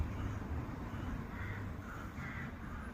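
Several birds caw from the trees at a distance, their calls coming in short bursts over a steady low background rumble.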